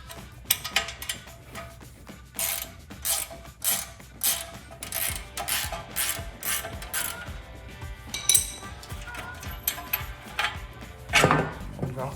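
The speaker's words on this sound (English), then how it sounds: "Just grab yourself a 21 millimeter wrench and a 10 millimeter." Wrenches turning the tie rod stud nut on a Jeep Wrangler JL steering setup, with a 21 mm and a 10 mm wrench: repeated metallic ratcheting clicks and clanks in irregular bursts, close and fairly loud.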